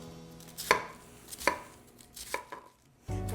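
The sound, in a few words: knife chopping green onion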